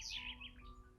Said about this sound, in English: the giant woke up to the sound of a chirping bird